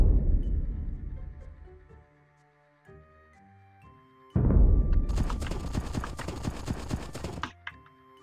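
Horses in Age of Empires 2 during a Viking-era custom campaign: a decaying resonant tone gives way to loud, close clip-clop of hooves with a brief whinny-like burst, running steadily before stopping.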